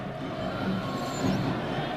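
Crowd noise at a Nashville SC versus Chattanooga FC soccer match, a steady broad murmur of many spectators at moderate distance, continuous with no distinct cheers or voices standing out.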